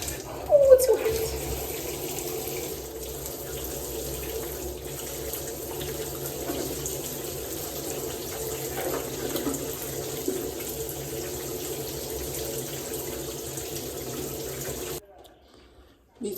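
Hot water runs steadily from a tap for a long stretch, a continuous close hiss and splash that cuts off abruptly near the end.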